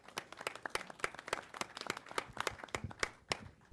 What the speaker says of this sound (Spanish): un aplauso para Mario, arrancamos con él